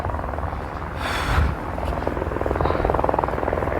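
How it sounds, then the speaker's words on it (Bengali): A helicopter flies over the steep mountain trek between Kedarnath and Bhairav Baba temple. Its rotor thrum stays steady and fairly close throughout and swells briefly as it passes, and no one speaks. "ওই যে হেলিকপ্টার।"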